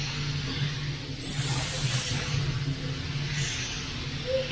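DeVilbiss GTi Pro spray gun spraying paint onto a panel, a steady close airy hiss that swells in two stronger passes.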